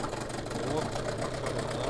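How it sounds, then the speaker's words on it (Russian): A Hangkai 9.8 outboard motor on a Riviera 3600 inflatable boat idles just after starting, a steady, even low drone heard close up with faint voices nearby. "Все, ожил мотор."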